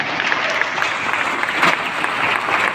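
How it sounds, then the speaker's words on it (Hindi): Steady, dense applause from an audience at an agricultural product talk fills the whole stretch, many hands clapping at once with no pause. "एक बार जोरदार तालियां बजाएं।"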